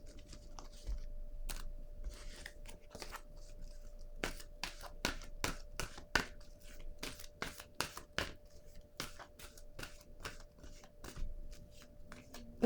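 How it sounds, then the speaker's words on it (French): Cards laid down one after another during a tarot-style reading, a series of soft, sharp slaps and flicks in an irregular rhythm, close and quiet, heard alone without talk. "Je vais déposer une autre carte."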